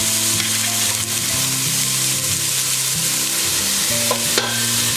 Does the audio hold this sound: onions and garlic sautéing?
yes